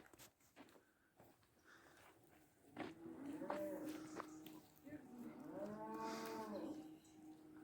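A cow moos twice in a rural farmyard, a shorter call followed by a longer, louder drawn-out moo, moderately close, with faint background voices and farm noise.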